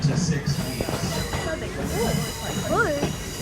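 An excursion train on the Great Smoky Mountain Railroad runs beside a lake, its steady rolling rumble joined by brief high wheel squeals toward the end while a voice talks over it.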